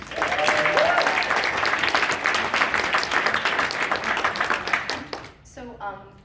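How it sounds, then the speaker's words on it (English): Dance event closing ceremony crowd applauding the DJs, a dense sustained clapping that tapers near the end, with cheers and voices mixed in and talk emerging as it fades. "So big round of applause for our DJs."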